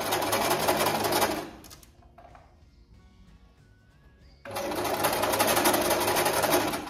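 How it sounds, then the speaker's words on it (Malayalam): A sewing machine runs in two steady stitching bursts, fast and close, with a quiet pause between them while a line of stitches is sewn and locked with reverse stitching. "ഇപ്പം തയ്ച്ചു, ഇനി റിവേഴ്സ് സ്റ്റിച്ച് ഇട്ട് ലോക്ക് ഇടാം, എന്നിട്ട് വേണം നമുക്ക് തയ്ക്കാൻ."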